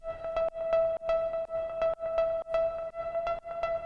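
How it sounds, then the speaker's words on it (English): A classic deep house synth pluck repeats in a quick, steady rhythm, short bright notes with a ringing tone and clear gaps between them, heard alone. "this is that classic deep house kind of pluck that I've heard in hundreds of tracks now"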